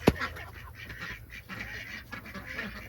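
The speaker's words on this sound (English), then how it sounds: "Here's all the duckies." Ducks quacking and honking softly in the background near chickens, scattered calls over a low outdoor bed, with one sharp knock at the start.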